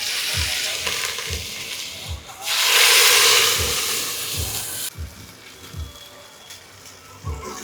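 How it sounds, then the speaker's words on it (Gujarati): Khaman tempering sizzles with cumin, coriander and chillies in hot oil, a steady loud hiss that swells for a few seconds and then settles, with rhythmic low thumps of stirring underneath. "ખમણનો વઘાર ભાઈ કમ્પ્લીટ જો તૈયાર થવાનો છે."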